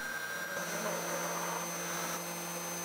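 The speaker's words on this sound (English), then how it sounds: "The router carves the lenses from outside to center position" CNC router spindle carving a 10mm acrylic lens, a steady high whining machine drone with faint tonal hum, continuous and fairly quiet throughout.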